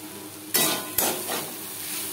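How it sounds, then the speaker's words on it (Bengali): A spatula stirs kakrol (spine gourd) with grated coconut in a pan over a medium flame, Bengali style. Two sharp scraping strokes land over a steady, soft sizzle of frying. "কাঁকরোলের সাথে নারকেল বেশ ভালো করে মিক্স করে দেবো।"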